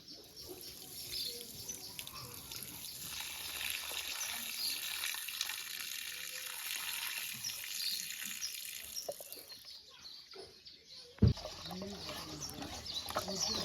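Taro roots being washed a second time to rinse off heavy soil, with steady running water and splashing throughout alongside outdoor bird cooing, and a sharp knock near the end.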